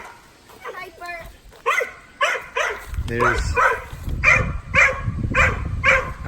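A farm dog barks repeatedly in short sharp bursts close by, with a person talking over and between the barks outdoors on a farm.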